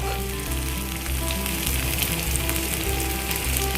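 Ginger garlic paste and onion fry with spices in a pan, giving off a steady, close sizzle and crackle with faint stirring throughout.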